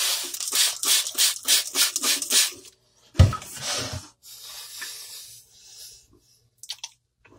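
Knife blade stroked across a sharpening stone while thinning a wide bevel, a run of about eight quick rhythmic scraping passes, then a heavier rub and softer slower strokes, close and moderately loud with no talk.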